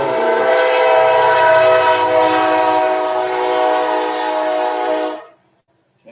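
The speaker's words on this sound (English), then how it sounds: "Kansas City Southern Railroad right on time." A Kansas City Southern Railroad train passes nearby, its horn blaring in a long, loud, sustained chord over rumbling cars for about five seconds before cutting off abruptly.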